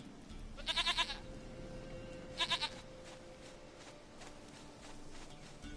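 Two separate quavering bleats from a goat in The Witcher 3, each a rapid trembling burst, sit over quiet ambient game sound with faint soft footfalls.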